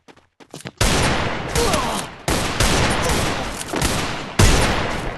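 Loud, sustained bursts of automatic gunfire in the Free Fire mobile game, three long volleys separated by brief gaps, preceded by a few scattered shots.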